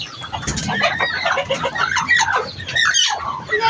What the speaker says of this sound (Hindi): ये मुर्गियाँ कुड़क बैठते थे, गुस्सा आता है इन मुर्गियों पर।